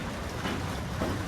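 Light rain falls steadily outdoors in cool, breezy weather, making a continuous, even hiss with no distinct drops standing out and no talking.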